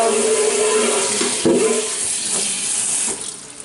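Tap water runs loudly and continuously into a sink as honey mushrooms are rinsed, with a brief splash midway and the flow easing near the end.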